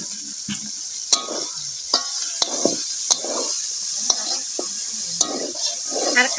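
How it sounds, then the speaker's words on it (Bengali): Meat frying with green chillies and onions in a pan at a village picnic cookout in Bangladesh, stirred with a utensil: steady sizzle with repeated sharp scraping clacks of the spoon against the pan, close and clear, no talking. "এখন মাংসটাকে ভালো করে ভাজা ভাজা করে নেব"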